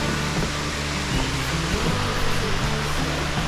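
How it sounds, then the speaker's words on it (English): Water at Sticky Waterfall (Namtok Bua Tong) near Chiang Mai, Thailand, rushes in a steady, close, full-bodied hiss with no break. "Sticky waterfall."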